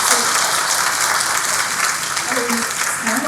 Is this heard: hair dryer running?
no